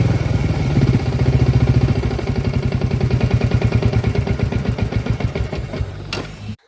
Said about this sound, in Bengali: ইঞ্জিনে প্রচন্ড নয়েজ হচ্ছে